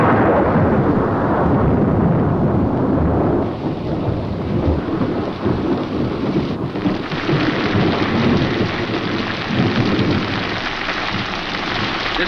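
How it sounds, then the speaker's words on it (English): A heavy thunderstorm roars with dense, steady rain and deep rolling thunder rumbling throughout, loud and continuous with no voices. "This storm will clear for an hour"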